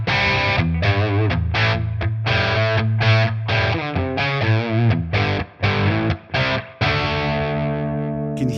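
Distorted electric guitar through a Victory amp ToneX capture on channel 1 at the second gain level, strummed chords ringing with crunchy breakup in a steady rhythm, then a final chord left to sustain and fade, played alone.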